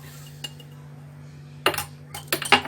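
Utensils clink against a bowl while apple cake batter ingredients are mixed, a few sharp metallic clatters in quick bursts after a quiet stretch with low steady hum, close and fairly loud.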